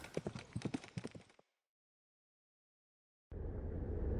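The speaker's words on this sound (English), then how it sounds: "Doom and his father are walking through the snow, guiding the horse by hand" A horse's hooves clip-clop in a quick, rhythmic walk through snow as it is led by hand, loud and close, then stop abruptly; after a silence, a steady rush of wind noise rises.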